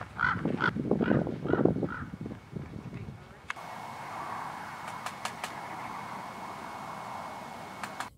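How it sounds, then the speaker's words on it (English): Harsh, crow-like cawing calls repeat in a quick series at first, then give way to steady outdoor ambience with a few sharp clicks. "I watched some birds."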